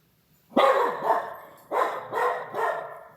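A pet dog barks indoors, two close bursts of yapping, each a short series of two or three barks separated by a pause, loud and alone with no talk.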